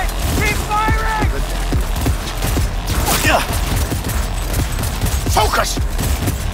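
Rapid gunfire in the video game Cyberpunk 2077, loud continuous bursts and fusillades with mechanical clacks, dense and close, mixed with game voices and a player talking.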